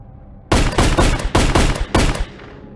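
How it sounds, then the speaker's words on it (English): A pea shooter weapon in the VRChat horror game The Hunt fires in a quick burst of about six sharp, loud shots, near and unaccompanied, then falls quiet. "Little pea shooter, which has unlimited ammo."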